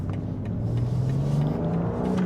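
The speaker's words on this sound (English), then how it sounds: "You can hear that beautiful straight 6 twin turbo." The straight-six twin-turbo engine of a 2025 BMW M2 pulls steadily under acceleration, its droning note climbing smoothly in pitch and heard from inside the car, continuous and fairly loud with no talking.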